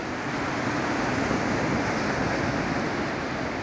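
Ocean surf washes steadily onto a wide sandy beach at sunset, a continuous broad roar with light wind noise and no distinct breaks or voices.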